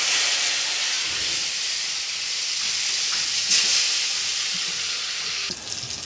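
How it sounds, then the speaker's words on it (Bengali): Bitter gourd fries in hot oil in a wok with a steady, loud, continuous hiss and sizzle, with a brief faint clink near the end. "উচ্ছেটা ভাজা হচ্ছে"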